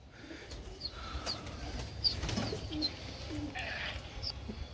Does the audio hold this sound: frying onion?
no